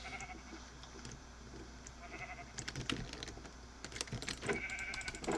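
Sheep bleating in Minecraft: several wavering bleats, some overlapping, over a low hum, with sharper clicks and bursts growing busier toward the end.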